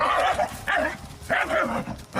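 A dog barks loudly in three separate bursts of rough, repeated barks during a heated confrontation between people.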